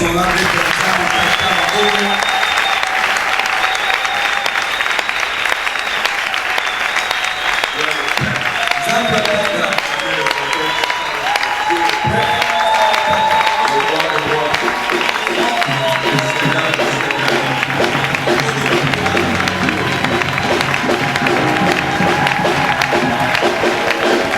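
A church congregation claps and cheers loudly and steadily in praise of God the Father, with dense applause running throughout, while voices shout and sing over it and a speaker talks.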